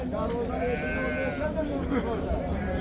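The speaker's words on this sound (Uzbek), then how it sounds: "Qo'shqormi? Qo'shqor." Rams bleat at a busy livestock market in Samarkand, their calls mixed into steady crowd chatter and nearby talking.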